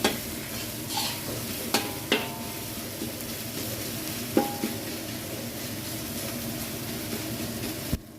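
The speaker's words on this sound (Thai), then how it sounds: "ผัดไปจนน้ำพริกให้มันหอมก่อน" Chili paste stir-fries in hot oil, a steady sizzle broken by several sharp clacks and scrapes of a utensil against the pan, close and moderately loud with no talking.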